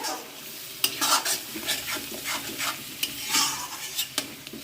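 Ginger paste and spices being stir-fried in a pan for a Bengali mutton curry, with repeated scraping strokes of a spatula over a steady close sizzle, the stirring coming in irregular bursts.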